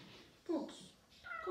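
Close, fairly quiet cat meowing: a short meow with a falling pitch, followed by a second rising meow.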